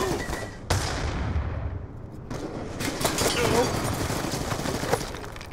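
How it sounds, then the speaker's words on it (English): In the Black Ops 2 video game, a flashbang grenade goes off as sharp, loud bursts within ongoing gunfire. A hard crack comes early and another comes midway, with rattling shots and noise filling the gaps. "Flashbang!"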